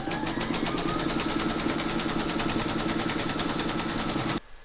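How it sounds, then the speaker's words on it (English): An embroidery machine stitches a placement outline for an in-the-hoop pouch, a loud, fast, steady mechanical chatter of needle strokes running continuously, then stopping abruptly near the end. "you're going to stitch colour number 1, and that's going to give you a placement outline for your batting"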